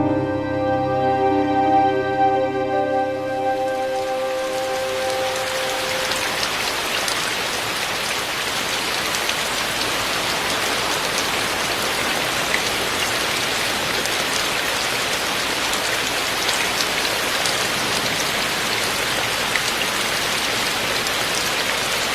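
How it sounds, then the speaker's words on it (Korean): Steady rain pours down on the walls of Magoksa, an ancient temple in Gongju, in a dense, continuous hiss, close and full, after a brief tonal passage fades out at the start. "고즈넉한 천년 고찰에 담장을 적시는 빗소리가"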